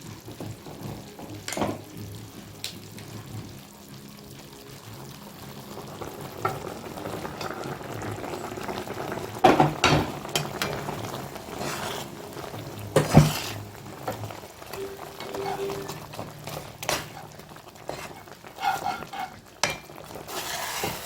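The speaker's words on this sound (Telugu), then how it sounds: "ఇప్పుడు ఇందులో మరుగుతున్న పాలు పోసేసుకుందాం ఫ్రెండ్స్" Boiling milk poured into a pan for Double ka Meetha, a soft continuous liquid rush and sizzle with stirring and occasional clinks of a spoon against the pan, quiet and close over about twenty seconds.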